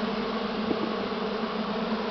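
Honey bees buzz steadily and densely around an opened hive in early April, a continuous close drone with no talk over it.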